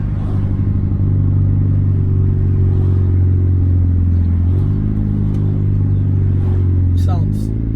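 A car engine with a newly installed downpipe exhaust drones loudly and steadily nearby. Its deep tone steps up in pitch partway through, like a light rev.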